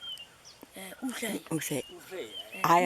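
A boy in Tanzania vocally imitates a bird call with short, voiced, chirping cries, close and fairly loud, with a brighter burst at the end. His call mixes with ordinary speech sounds throughout.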